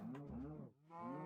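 A cow in the Minecraft video game lets out two drawn-out moos with a short gap between them, clear and fairly close, with no voices.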